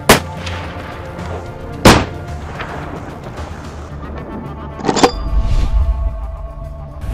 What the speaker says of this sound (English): I take my shot.